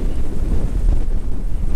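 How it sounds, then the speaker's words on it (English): Strong wind gusts outdoors on a hot, dry day at a cattle ranch, a loud steady low rumble buffeting the microphone throughout with no talking. "it's a windy, hot, dry day"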